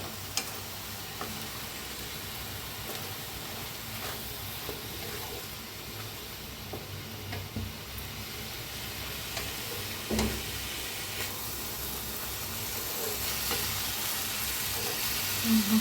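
Dry drumstick pod (shevga) vegetable stirred and frying in a pan, a steady low sizzle with occasional scrapes and clicks of the spoon, close and fairly quiet throughout.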